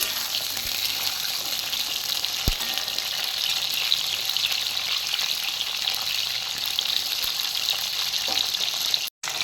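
Pointed gourd (potol) pieces sizzle steadily in hot oil as they are stirred in the pan, a loud, continuous frying hiss with occasional scraping knocks and a brief dropout near the end.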